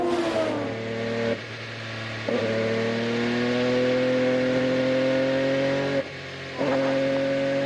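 Onboard engine note from Simon Pagenaud's IndyCar race car at Indianapolis, a loud continuous high-revving drone that climbs steadily through gears, with brief drops at upshifts and lifts, no voices.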